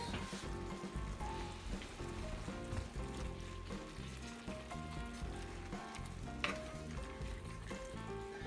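Fresh tomatoes for shakshuka sizzle in a hot Lodge cast iron skillet, a continuous crackling fry heard up close with light stirring and one brief sharper clatter.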